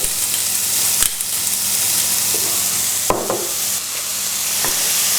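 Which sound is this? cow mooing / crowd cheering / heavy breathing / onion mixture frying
onion mixture frying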